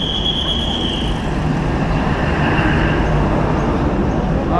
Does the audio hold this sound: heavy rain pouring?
no